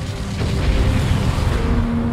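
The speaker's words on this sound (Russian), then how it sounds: "Мы реально взрываем весь остров." A special-effects explosion set off on the Jurassic World 2 film set gives a loud, deep boom that swells into a sustained roaring rumble, with no voices over it.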